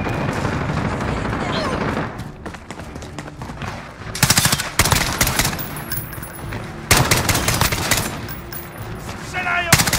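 Rapid automatic gunfire in Call of Duty: Modern Warfare 2019 multiplayer, bursts of machine-gun shots crackling near and loud in several volleys, with in-game voices speaking over the battle.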